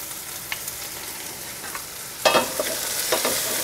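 Rabbit cacciatore with mushrooms frying in a pan gives off a steady close sizzle, with a louder burst of crackling partway through as the food is stirred.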